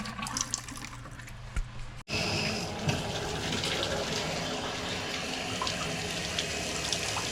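Cold water running from a garden hose during a water heater install, a steady rushing flow that starts abruptly after a brief pause and continues evenly, with faint background noise before it.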